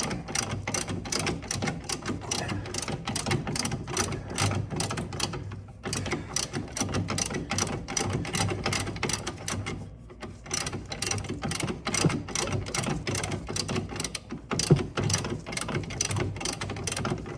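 A ratchet tightens a nut on a rear crossmember bolt of a 2009–2014 Nissan Maxima, giving a fast, steady run of close mechanical clicks with two brief pauses and no talking.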